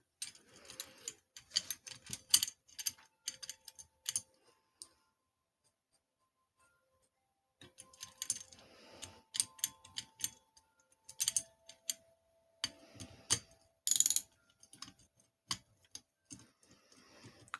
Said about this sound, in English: And don't tighten it all the way down at one time. Just kind of give it a couple turns.